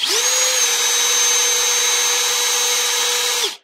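A battery-powered tool starts up and runs with no load, a steady high whine with motor hum held for about three seconds before it stops abruptly, loud and close with no voices.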